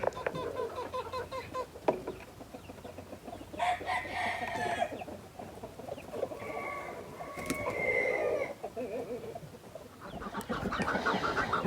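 Chickens on a small farm being let out of their coop, clucking and crowing steadily at moderate distance, with a rooster call standing out over scattered bird noise.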